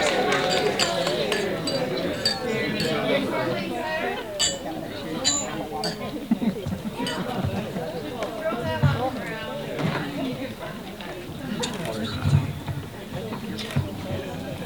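Glasses chink together during a wedding toast, a scatter of light clinks rising over loud crowd chatter and voices in a busy reception room.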